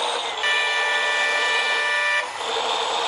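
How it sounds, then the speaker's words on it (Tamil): A bus horn blares in Bus Simulator Indonesia with a Tamil Nadu traffic mod: one loud, steady, tonal honk held for almost two seconds, then cut off, with no talking. "இந்த ஹாரன் ரொம்ப நல்லா இருக்கும்"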